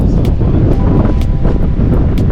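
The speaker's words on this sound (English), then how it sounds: "Man, it's windy." Loud, steady wind buffeting the microphone during an e-bike ride, a constant low rumble with gusty bursts throughout.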